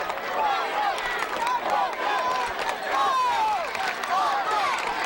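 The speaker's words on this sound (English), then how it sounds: "The crowd getting into it on this fourth down situation." A high school football crowd in Ohio, Anthony Wayne hosting Springfield, cheers and shouts on a fourth down, a steady roar with whistles and yells rising and falling beneath a commentator's voice.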